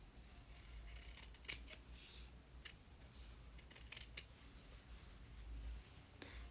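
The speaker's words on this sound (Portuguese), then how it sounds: "vai cortar bem fininho o excesso" Scissors snip away excess fabric along a seam, a few crisp close cuts spaced irregularly over a quiet background, with no voice heard.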